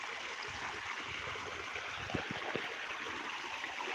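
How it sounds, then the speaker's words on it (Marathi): Water for a cotton field flowing steadily down an irrigation line, a faint, even rushing hiss with occasional low gurgles, heard alone without talk. "पाणी चालू आहे कपाशीला पाणी देणं चालू आहे"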